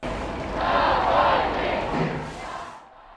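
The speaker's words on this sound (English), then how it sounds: "a large crowd of mourners walked from the church to the cemetery, chanting "Free political prisoners."" At a Russian opposition leader's funeral procession from a church to a cemetery, a large crowd of mourners chants and shouts in a loud, dense roar that swells, then cuts off abruptly.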